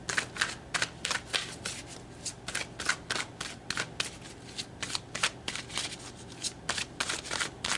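Tarot cards shuffled close by in quick repeated riffles, a soft papery flutter in bursts with no voices.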